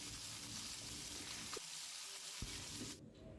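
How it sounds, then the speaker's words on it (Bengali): Bele fish fry in hot mustard oil in a kadai, a dense steady hiss of sizzling with a few brief knocks, quiet overall, then the frying drops sharply near the end. "মাছগুলো আমি ভাজার জন্য ছেড়ে দিয়েছি তেলের মধ্যে।"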